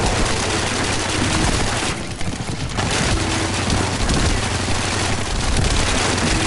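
Rapid gunfire from the Python gun in the video game The First Descendant rattles in a loud, dense, continuous stream, with a brief dip partway through before the bursts resume.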